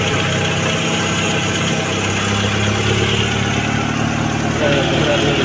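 A freshly overhauled 1994 Mitsubishi GLXi with manual transmission idling steadily and loudly up close, a constant broadband engine drone with no revving.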